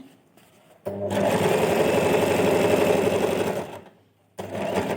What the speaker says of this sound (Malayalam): ഇനി നമുക്കിതൊന്ന് കറക്റ്റായിട്ടൊന്ന് സ്റ്റിച്ച് ചെയ്തെടുക്കാം